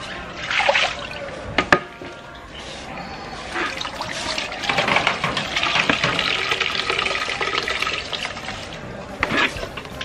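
Water splashing and trickling as a plant pot is washed in an Indian garden in winter, close uneven pouring and dribbling with a few knocks, and someone speaking briefly over it.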